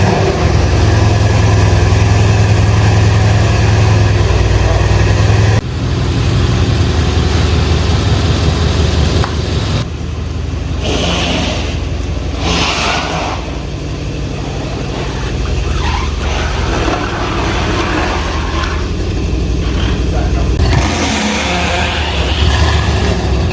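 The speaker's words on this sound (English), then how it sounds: "it's time to start the car and get her outside" A car engine cranks and catches, then settles into a loud, steady low idle before revving and pulling away outside, the rumble continuing at varying loudness throughout.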